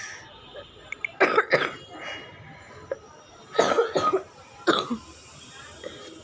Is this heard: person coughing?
yes